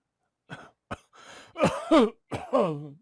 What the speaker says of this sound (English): He coughed harshly and cleared his throat.